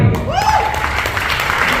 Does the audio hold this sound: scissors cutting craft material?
no